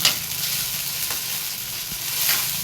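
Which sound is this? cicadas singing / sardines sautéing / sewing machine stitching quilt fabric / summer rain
sardines sautéing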